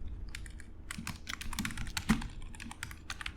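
Code being typed on a computer keyboard: rapid, irregular key clicks in quick bursts, close and fairly quiet, with no talking.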